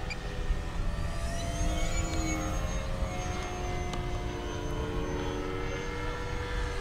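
A small remote-controlled propeller airplane buzzes steadily overhead, its motor drone holding a continuous tone with slight pitch shifts as it maneuvers, fairly close and loud against faint wind, with no talking.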